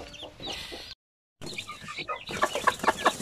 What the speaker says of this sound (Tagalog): So yan po yung mga sisiw